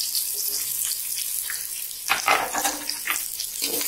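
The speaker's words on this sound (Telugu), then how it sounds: "మంచి బ్రౌన్ కలర్ వచ్చేంత వరకు ఫ్రై చేస్తాము." Sliced onions frying in oil with shahjeera for a chicken pulao, a close, crackling sizzle with bursts of louder spitting and stirring noise toward the end, no speech.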